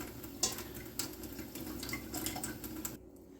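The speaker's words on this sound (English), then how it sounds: "I'm gonna be adding 2 cups of water right here and bring it to boil in my Instant Pot." Two cups of water pour into an Instant Pot in a home kitchen, a close, soft splashing stream with small clinks that runs for about three seconds and then stops.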